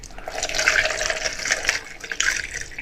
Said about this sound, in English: So I'm just going to pour